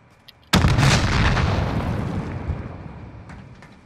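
A single explosive charge detonates in a shooter video game: a sudden loud blast with a long, rumbling decay that fades over a few seconds, with a couple of faint pops before it.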